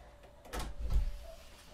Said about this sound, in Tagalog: Ilalak natin yung pintuan.